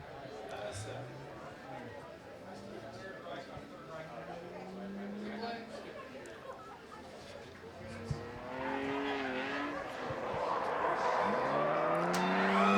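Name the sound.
race car spinning out at a grassroots motorsport event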